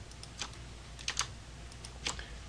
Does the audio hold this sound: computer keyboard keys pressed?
yes